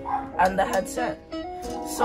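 A dog barks in short yips and woofs in a home workshop during an old scooter restoration, partly buried under someone talking close to the microphone.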